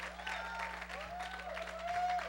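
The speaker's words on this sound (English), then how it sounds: "Let's give her a round of applause." A church congregation applauds a visiting guest pastor, a steady, even patter of many clapping hands heard at a distance over a low electrical hum, without a clear peak or ending.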